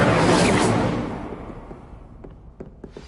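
The Incendio fire spell is cast in the video game Hogwarts Legacy. A loud burst of flame fills the start and fades over about a second into a low roar, and a few faint clicks and knocks follow.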